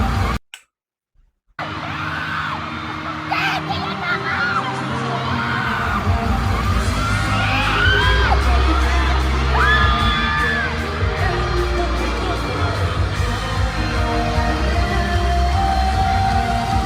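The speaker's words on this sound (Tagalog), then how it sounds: "Grabe talaga yung tili." A concert crowd screams and cheers at Puregold OPM Con Generations 2026. After a brief near-silent gap, it swells into a dense, loud, continuous roar of shrieks and whoops.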